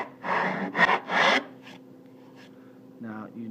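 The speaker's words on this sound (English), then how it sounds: "There's just an ever so slight lip where this is being rasped" A rasp files a wooden tenon for a side table's mortise-and-tenon joint, giving three quick rough strokes up close, followed by a quiet lull and a brief softer scrape near the end.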